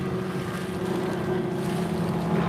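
A racing motorboat on a course runs with a steady, droning engine whine held at an even pitch, with wind noise and no voices over it.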